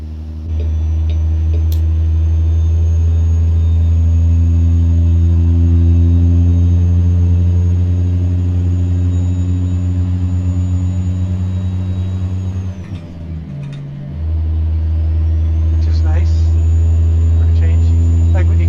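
A diesel engine in a Peterbilt 389 truck hauling a triple lowboy trailer, climbing under heavy throttle, drones steadily and loudly at a constant pitch, with a brief dip in the middle before the drone returns.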